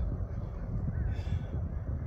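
Crows caw at sunset outdoors, a brief, faint call rising over a loud, rumbling wind-like background that dominates throughout.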